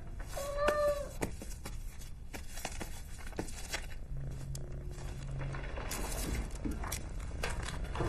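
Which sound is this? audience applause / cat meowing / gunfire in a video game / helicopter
cat meowing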